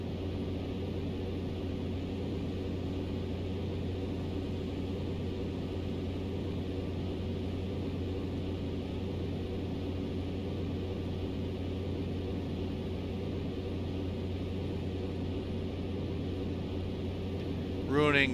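A Cessna C208 Caravan's turbine engine in the X-Plane 12 flight simulator, climbing out with flaps during a hop across Papua New Guinea, drones steadily and loudly throughout, a constant airframe hum with no break.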